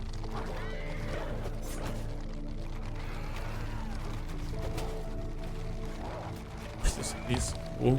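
Horses in Mount and Blade 2 Bannerlord, a Lord of the Rings mod set in Rohan, neigh and clop amid battle noise, with a sharper whinny near the end over a busy, continuous game soundscape.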